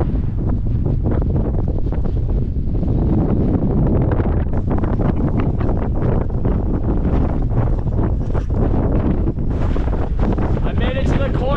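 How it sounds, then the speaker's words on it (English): Strong wind, reported near 40 knots gusting to 50, roars and buffets the microphone without letup on the exposed Ko'olau summit ridge trail in Hawaii, loud and close throughout. "It's really windy."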